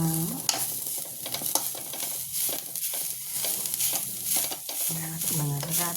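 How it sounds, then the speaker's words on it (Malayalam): Grated coconut roasting in a pan with only a little oil, a soft crackling sizzle under repeated scraping stirs, with a voice briefly speaking at the start and end. "തേങ്ങ വറുക്കുന്നതാണ്"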